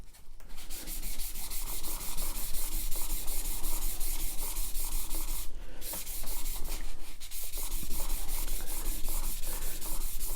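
A steel chisel rubbed flat on wet and dry abrasive paper to sharpen it, a continuous rapid back-and-forth scratchy rasping close up, with one or two brief pauses and no talking.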